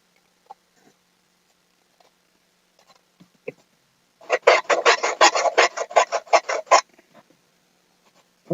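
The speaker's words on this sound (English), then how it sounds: "What would I do without a sander from the Dollar Tree?" A Dollar Tree sander rasps against a piece for about two seconds in a quick run of scratchy back-and-forth strokes, close and fairly loud, with only faint handling clicks before and after.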